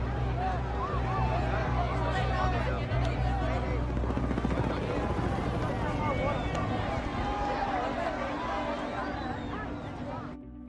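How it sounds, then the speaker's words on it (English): Helicopters lift away from a crowded evacuation site during the last days of the Vietnam War, a steady rotor and engine drone filling the scene beneath a dense murmur of crowd voices and wind. "they looked up at the helicopters leaving"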